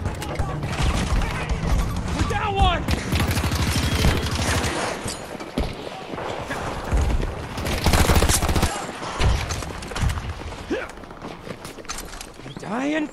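An M416 assault rifle fires in sustained rapid bursts in Battlefield 2042, with repeated volleys, distant shots and footsteps across the match, under a player's talking.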